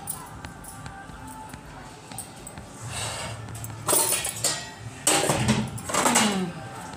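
Plates clatter and clink as they are taken out to serve food at home, with scattered quiet handling at first and then a few louder bursts of ceramic knocks near the end, no talk.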